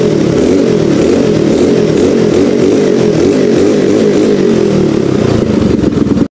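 A motorcycle engine with a modified carburetor, converted from vacuum to non-vacuum on a high-compression, road-race-spec setup, revs loudly and close up with a continuous rough throaty roar and repeated throttle blips, no talking.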